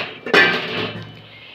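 A metal lid set down onto a cooking pot of egg curry simmering in water, one sharp clank followed by a brief ringing decay, close and alone.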